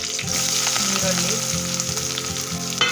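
Onions with curry leaves and mustard seeds frying in a pan: a steady, dense sizzle that holds throughout, with music playing underneath.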